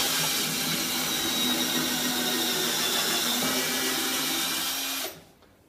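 A power drill fitted with a 5 mm bit widens a hole in a door area, whining steadily at close range for about five seconds before spinning down and stopping abruptly.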